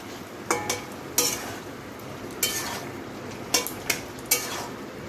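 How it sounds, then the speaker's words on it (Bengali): A spoon stirs sugar into a simmering bottle gourd and potato curry, with soft bubbling throughout and several light scraping clinks against the pot. "চিনিটা ভালোভাবে মিশিয়ে নিলাম।"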